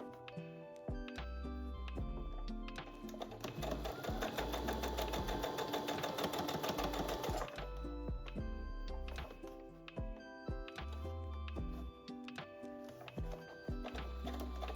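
A sewing machine runs a steady, even mechanical hum as it stitches the folded bottom edge of a fabric skirt yoke, close by, with short pauses and lighter ticking between the runs.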